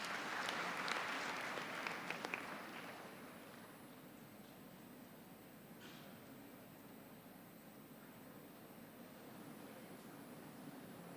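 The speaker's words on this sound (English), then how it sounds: "Please give a big round of applause" Applause from a university convocation audience, a loud burst of clapping in the first few seconds that fades into a softer, sustained patter across a large hall.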